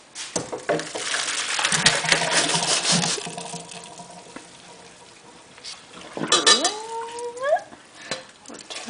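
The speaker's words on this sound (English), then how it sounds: "Third, you drain the macaroni and return it to the pan." Cooked macaroni is drained and tipped back into the pan, with a few seconds of rushing, splashing water followed by scraping and clattering, then a rising whistle-like tone near the end.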